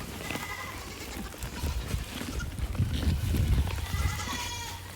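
Baby goats at a goat farm bleat during feeding, with several short, thin bleats among rustling and low handling noise, fairly close.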